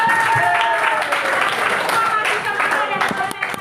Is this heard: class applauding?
yes